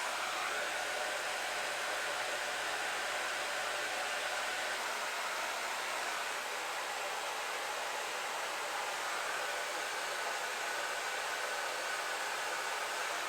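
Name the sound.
hair dryer on low heat, lowest setting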